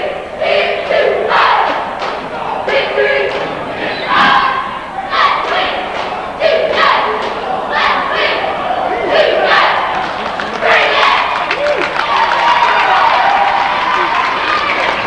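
Varsity cheer squad chanting on the floor at a high school basketball game between Northern Adirondack and Seton Catholic boys, loud rhythmic shouted cheers in bursts with crowd noise and thumps filling the gym.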